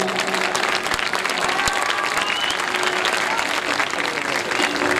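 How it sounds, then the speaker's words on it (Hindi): An audience at a staged poetic drama performance breaks into loud, dense applause that holds steady and continuous throughout, like a full crowd clapping close by. "और जोरदार तालियां"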